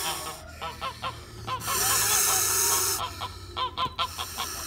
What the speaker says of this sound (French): Ici on a une oie qui couve, pareil.